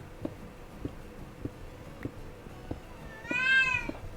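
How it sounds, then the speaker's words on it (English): A single clear cat meow rises near the end over quiet, softly ticking background sounds. "Oh, hey kitty. I hear you."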